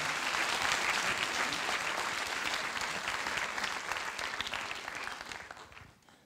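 An audience in a theatre hall applauds for a guest of honour, steady dense clapping from many hands that holds strong and then tapers off toward the end.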